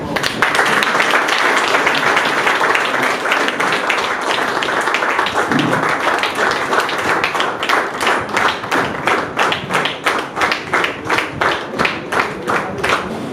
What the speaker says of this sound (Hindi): ओके तालियां मारो।